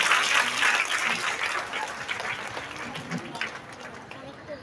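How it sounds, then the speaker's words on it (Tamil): Audience at a public book festival event in Thoothukudi welcoming guests with moderate applause, strongest at the start and gradually thinning. "பொதுமக்கள் உங்களுடைய பலத்த உற்சாகமான கரகோஷத்துடன் அவர்களை வரவேற்கலாம்."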